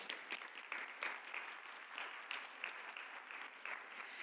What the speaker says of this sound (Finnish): vielä aplodit.